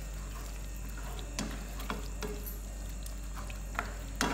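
A quiet sizzle runs beneath soft scraping and clicking of a spoon stirring chana lentils into a tarka in a pan, with occasional sharper taps and no speech.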